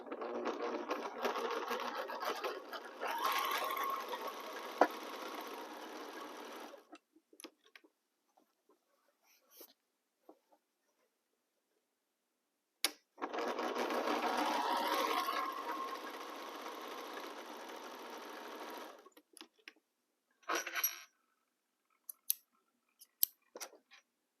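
A sewing machine stitches diagonal quilt lines in two steady, whirring runs of about seven seconds each, close and moderately loud, separated by quiet pauses with scattered clicks and fabric handling.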